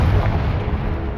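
A Confringo explosive spell blast in Hogwarts Legacy: a dense, loud, rumbling boom that fills the short moment with no gap, heavy in the low end.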